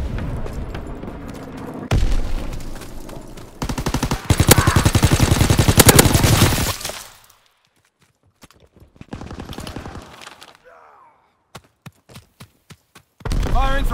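Artillery and gunfire barrage in a World War II toy-soldier scene: heavy bursts of rapid firing for several seconds, a sudden near-silent gap, then scattered isolated shots and a final loud burst.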